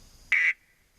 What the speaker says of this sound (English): and I've got my duck call.